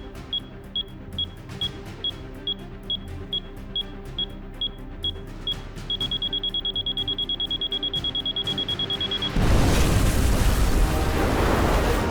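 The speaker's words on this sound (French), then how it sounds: "L'explosion! Ça doit être Papa Rémic qui a fait sauter la tour." A tower explodes in a video game: a broad, loud roaring blast cuts in after a steady electronic beeping alarm that quickens into a continuous tone, then the noisy roar continues to the end.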